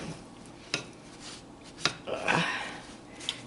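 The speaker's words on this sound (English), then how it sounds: "we're mixing the butter and the sugar" Butter and sugar mixed in a pan for pecan pralines: soft scraping and rubbing strokes with a few light utensil taps against the pan, fairly quiet and close, with no talking.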